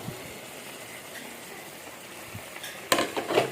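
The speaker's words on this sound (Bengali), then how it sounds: "ভালো করে নাড়িয়ে দেবো। ভেজে রাখা আলুগুলো দিয়ে দিচ্ছি।" Chicken curry with fried potatoes in a pan, sizzling steadily as a spoon stirs through it, with louder scraping and churning near the end.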